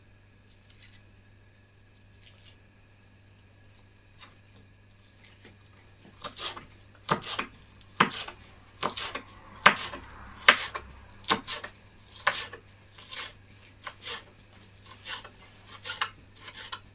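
An onion chopped with a knife for tabouleh starts as a few faint taps, then a steady run of sharp knocks lands on a board about once a second, close and fairly clear over a low background hum.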